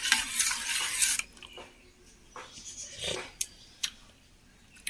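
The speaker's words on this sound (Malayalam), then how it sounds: "നമുക്ക് ഇളക്കി ഇതിൽ ഉപ്പൊക്കെ ഉണ്ടോ എന്ന് നോക്കാം." A spoon stirs gooseberry buttermilk, salted gooseberry and curd with water, in a vessel, making short swishing sloshes and a few sharp metal clinks, with quiet pauses between strokes.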